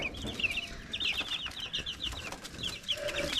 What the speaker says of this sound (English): fast little chicks, and they catch the fly and eat it